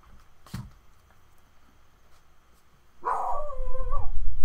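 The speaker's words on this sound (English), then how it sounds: "Cap, don't bark." A puppy lets out one short, loud bark indoors, then a sustained whining howl a few seconds later, close to the listener with no talk over it.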